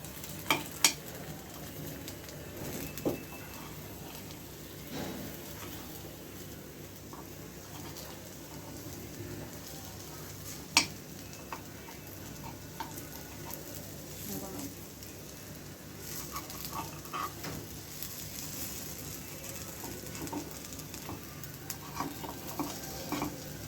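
Appe (paniyaram) fry in oil in an appe pan and get flipped with a spoon: a soft, steady sizzle runs throughout, broken by occasional light clicks and scrapes of the spoon turning them.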